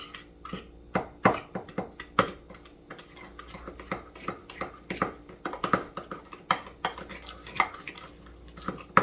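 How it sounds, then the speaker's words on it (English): A spoon mixing oregano into food in a dish, repeated clinks and scrapes against the dish in an uneven stirring rhythm, close and fairly quiet. "we're just going to take the spoon and mix it around"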